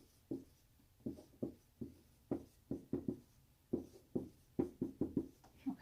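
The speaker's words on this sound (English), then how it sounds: "So let's write down their names." Pen or marker writing out names during a math lesson, a run of short scratchy strokes in quick uneven bursts, close and fairly quiet, with no talking.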